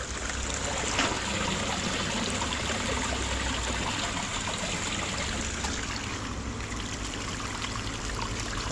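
Water running steadily over copper scrap in a sluice, a continuous close trickling and streaming wash at an even level with no talking.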